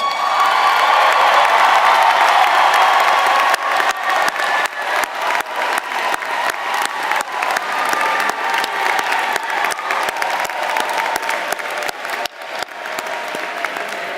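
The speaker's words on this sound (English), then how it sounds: "give them a deserving round of applause" A large crowd at a university commencement ceremony applauds steadily, clapping dense at first and then thinning slightly as it continues.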